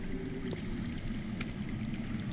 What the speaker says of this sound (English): That's water. I hear water.